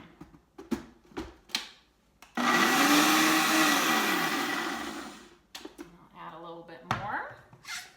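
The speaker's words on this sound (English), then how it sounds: "So I'm just going to add a little bit at a time and blend it up so it gets good and mixed." A Ninja blender mixing raspberry vinaigrette dressing roars loudly for about three seconds, then winds down, with short bursts of talk and clatter before and after.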